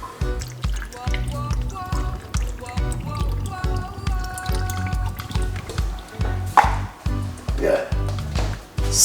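Water is poured into a container for a simple homemade remedy, giving a close, gurgling fill with rising tone and dribbles, while someone talks over it.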